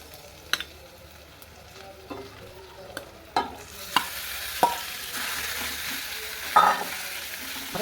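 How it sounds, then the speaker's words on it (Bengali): Marinated mutton frying in a pan with browned onions, a soft continuous sizzle broken by sharp scraping clicks of a spoon stirring, close and fairly quiet, with no talking. "এবার আমি ম্যারিনেট করা এই মাটনটা এর মধ্যে আমি দিয়ে দেবো"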